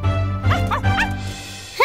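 A cartoon Dalmatian dog barks in a few quick yips, close and moderately loud, over a steady background hum.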